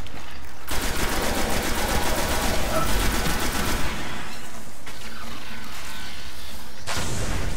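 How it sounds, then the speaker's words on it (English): Rapid crackling bursts and heavy gunfire around an electric grenade explosion in the Destiny beta, loud and dense for several seconds before fading into quieter game ambience. "Ooh, electric grenade."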